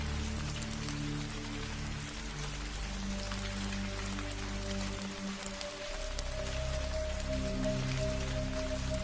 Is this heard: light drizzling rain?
yes